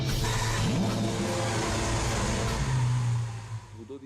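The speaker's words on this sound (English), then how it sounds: "The V12 motor represents what for us is the sound, the music of the car" A Lamborghini Aventador's V12 engine revs through its exhaust, a loud, rich roar rising and holding close up before easing off and fading at the end, with no voices over it.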